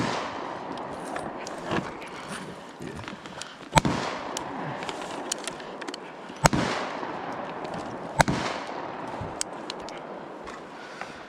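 Handguns and a shotgun, including a 9mm and a Glock 19, firing outdoors, a few sharp loud reports spaced several seconds apart, each with a short echoing tail over a noisy background and no clear talk.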